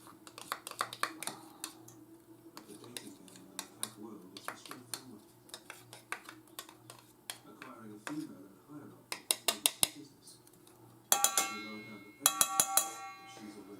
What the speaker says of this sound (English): Sorry, I'm using a metal spoon today.